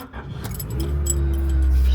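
A right-hand-drive wagon's engine cranks and catches, quickly settling into a loud, low rumble at close range, with light metallic rattles at the start.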